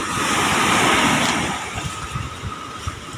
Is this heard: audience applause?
no